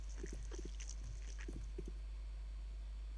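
A dog in the video game Pathologic gives faint, short, scattered whimpers and snuffling sounds over a low steady hum.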